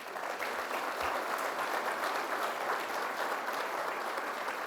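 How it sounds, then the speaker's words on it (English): Steady audience applause at a governor's announcement event in Niagara Falls, a dense even wash of many hands clapping, moderately distant, with no speech over it. "Could we have another round of applause for them?"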